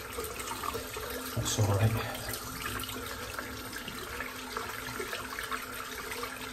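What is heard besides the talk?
rinsing soap out of shaving brush under running tap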